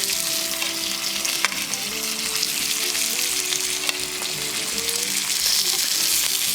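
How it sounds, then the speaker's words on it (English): Chicken thighs seasoned with garlic powder sear in a hot skillet for bourbon chicken, giving a steady, loud, close sizzle and crackle that runs throughout with no talking. "There you go, hear that sizzle?"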